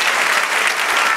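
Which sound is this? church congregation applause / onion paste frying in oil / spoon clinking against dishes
church congregation applause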